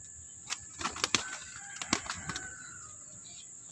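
Two pigeons tossed into the air, their wings clapping and flapping in several quick bursts over about two seconds, fairly close, with a steady high whine in the background and no talk.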